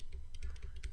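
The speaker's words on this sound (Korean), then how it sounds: "그래서 우리 컨트롤 1번 눌러서" Ctrl+1 is pressed on a computer keyboard while working in Excel 2016, giving a quick cluster of soft, close key clicks in a quiet room.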